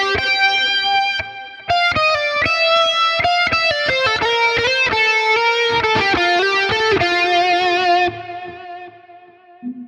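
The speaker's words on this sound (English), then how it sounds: "So again, nice big chorus effect, and that lead tone works really well." Distorted lead electric guitar through a Quad Cortex with a wide dual chorus and reverb, a sustained melodic line of bent and held notes that shimmer and swirl before trailing off near the end.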